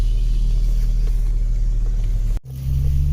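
A 2007 Chevrolet Trailblazer with a 4.2 L engine and brakes locking up drives along. A steady low road rumble and engine hum run throughout, broken by a brief dip before the drone resumes.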